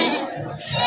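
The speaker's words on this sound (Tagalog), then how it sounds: "Ito malaking kambing." A large goat at a livestock sale bleats, a wavering nasal call that swells near the start and end of a short moment, close by, with faint background voices.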